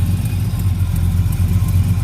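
A 1971 El Camino engine running just after being cranked, a loud, close, steady low rumble with a slight exhaust leak, uneven pulsing idle throughout with no voices.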